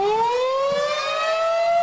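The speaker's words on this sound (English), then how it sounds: "that's the warning sound many communities across the Miami Valley heard as 15 tornadoes, many large and violent, approached on Memorial Day" Outdoor tornado warning siren in the Miami Valley wailing steadily at a loud, sustained pitch that rises slowly, a continuous civil-defense tone with no voices.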